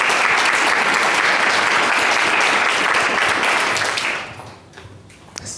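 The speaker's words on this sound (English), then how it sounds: "please join me in giving a wide round of applause to our panelists today" A large audience applauds panelists at a university event on food systems, sustained dense clapping close and loud for about four seconds before fading to a few scattered claps.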